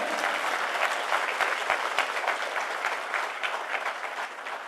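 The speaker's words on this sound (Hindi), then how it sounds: "तो आप अपने लिए एक जोरदार तालियां बजा सकते हैं।" Sustained applause from a seminar audience, dense and steady clapping filling the room for nearly five seconds with no talk over it.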